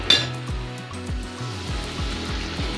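Hilsa fish and tomato going into hot oil, with a sizzling hiss over a low background hum and a few clinks of cookware at the start.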